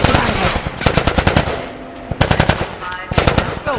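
Bursts of automatic gunfire in The Last of Us on PS3, loud close rapid rattling volleys in three clusters separated by short gaps, with shouted voices nearby.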